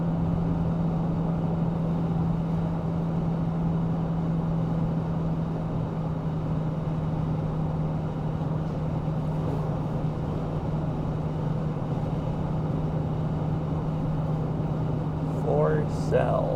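Steady interior road and wind noise inside a car driving near North Cascades National Park, a continuous low rumble with a constant hum, even in loudness throughout.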